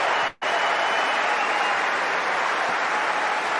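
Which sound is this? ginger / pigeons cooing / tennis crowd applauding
tennis crowd applauding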